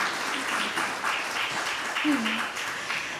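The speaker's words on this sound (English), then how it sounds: "Let's give it a round of applause for the beautiful Sarah Tan." Audience applause for a guzheng player in a Chinese music ensemble concert, a steady wash of clapping filling the room at moderate volume throughout, with faint voices murmuring beneath.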